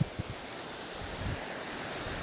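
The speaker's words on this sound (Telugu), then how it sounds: "జలపాతం ఇంక నిత్యం అలాగే వెళ్తూ ఉంటుంది." Continuous broadband rushing water, steady and fairly loud, from a waterfall pouring without pause.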